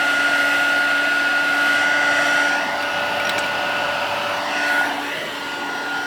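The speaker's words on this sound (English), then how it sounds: "as you use your heat gun, those are going to kind of dry together" A heat gun blows a steady, loud whooshing drone while drying alcohol ink blends on vellum. It stays close and constant, easing slightly in level as it moves, with no talk.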